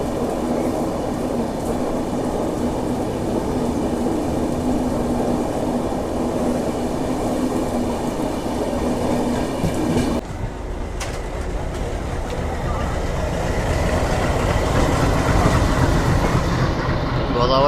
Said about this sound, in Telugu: సో మన ట్రైన్ వచ్చేసి సికింద్రాబాద్ నుంచి అయితే బయలుదేరిపోయింది